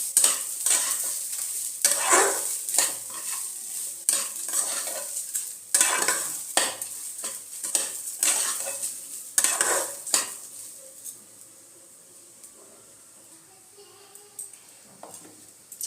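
Lightly fried rice for basanti pulao in a pan takes repeated close metal spoon scrapes and clatters against a soft sizzle, busy for about ten seconds. Afterward only a faint, quiet frying remains.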